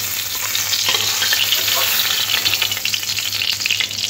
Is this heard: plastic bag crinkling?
no